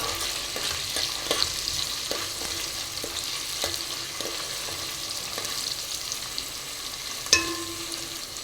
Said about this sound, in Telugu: ఈ ఉల్లిపాయలు లైట్గా కలర్ మారేంత వరకు వేగనిద్దామండి